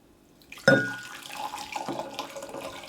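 Boiling water is poured into a vessel after a sharp clink, a splashing, gurgling stream that settles into a softer trickle, fairly close.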